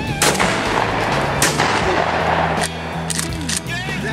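Shotgun blasts during a quail hunt in open field, several sharp loud reports spread across a few seconds, with people talking and calling around them.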